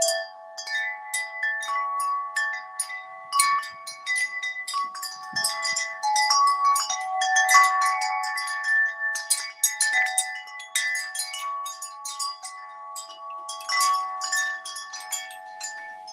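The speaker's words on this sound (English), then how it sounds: "Got the wind chimes going here." Wind chimes ringing after dark, a scattered, irregular stream of bright metallic tones and sustained ringing notes, fairly soft and close, with no talking over them.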